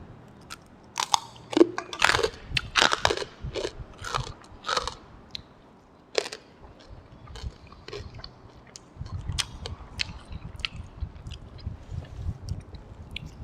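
Crunchy bites and chewing of crispy pork rinds eaten with sticky rice alongside a Thai eggplant soup, loud close-up crunches in quick clusters, then steadier chewing with no talk.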